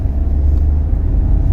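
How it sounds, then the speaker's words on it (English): A Volkswagen Taigun 1.0 TSI with manual gearbox rolls over speed bumps in second gear, giving a steady low engine and road rumble from inside the cabin with no distinct jolts. "So as you can see, I can take this car in 2nd gear itself on speed bumps."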